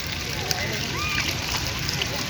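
Water splashes and sloshes steadily at a garden fountain in Shalimar Garden, Lahore, where children play in the cool water. A constant wash of spray runs under faint voices and brief chirps.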